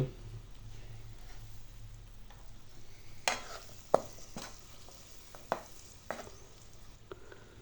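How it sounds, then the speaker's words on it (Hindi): Vegetables with boiled peas stir-fry in masala for Maggi noodles, giving a soft continuous sizzle, close and quiet, broken by several sharp spatula scrapes and taps against the pan. "वेजिटेबल को 2 मिनट तक मसाले में भून लेंगे।"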